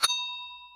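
A notification bell ding rings once: a sharp metallic strike followed by a clear, pure ringing tone that fades gradually, alone and fairly close, with no speech.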